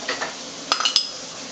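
A utensil stirs white flour into heated oil in a pot, a few quick metallic scrapes and clinks against the pot's side over a soft steady sizzle, close and fairly quiet.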